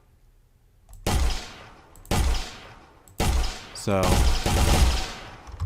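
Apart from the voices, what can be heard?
gunshots in a video game engine physics test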